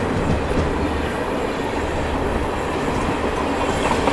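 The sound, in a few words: Barmer Bandra Humsafar Express train passing on adjacent track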